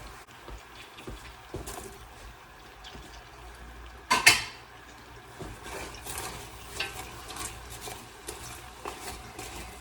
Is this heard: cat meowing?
no